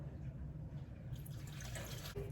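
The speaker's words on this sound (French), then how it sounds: "je vais rajouter 450 grammes d'eau froide" Cold water being poured into a kitchen mixer bowl, a steady faint splashing and trickling that starts about halfway through and builds, heard close and quiet with no talking.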